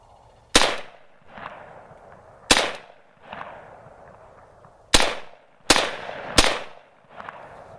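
An AMD 65 Hungarian AK rifle fitted with a compensator fires six sharp, loud single shots at irregular intervals outdoors, each crack followed by a short rolling echo.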